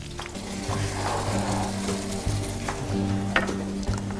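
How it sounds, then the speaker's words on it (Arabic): Oil sizzling and frying in a pan with green onion and garlic added, a steady close crackle with a few stirring clinks throughout. "خلاص حطينا الزيت، وبعدين نحط البصل الاخضر والثوم"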